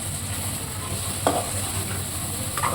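Egg curry stirred in a pan, a continuous sizzle under a steady hum with a couple of distinct scraping stir strokes of a spoon against the pan.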